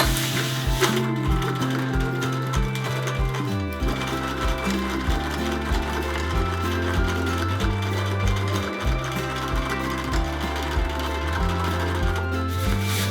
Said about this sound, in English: It's really important when you sew a gathered skirt onto a bodice that you sew with the gathered skirt face up.